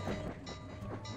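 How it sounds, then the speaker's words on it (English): A train rolls past in the video game Sly 2: Band of Thieves, a steady dense rumble with low clatter and a faint rhythmic beat, loud and alone with no talk. "is there a train coming?"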